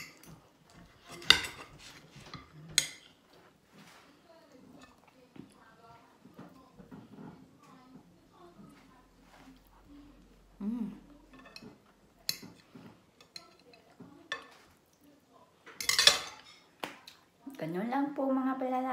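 Knife and fork clink and scrape on a plate while eating rack of lamb at dinner, sparse sharp taps and scrapes at irregular intervals, close and fairly quiet, with a voice speaking softly between them.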